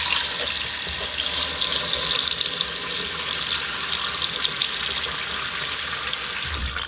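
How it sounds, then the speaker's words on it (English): Cold tap water runs hard and steady into a pot of freshly boiled eggs in a kitchen sink, a continuous close hiss and splash that stops sharply at the end. "I'm going to cover them with cold water."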